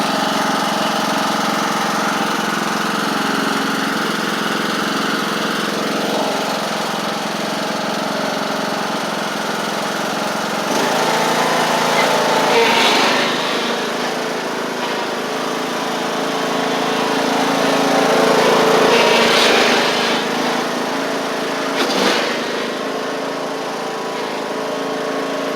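A John Deere D110 riding lawn mower engine runs steadily as the machine is driven, its drone swelling louder a few times, close by and with no talk over it.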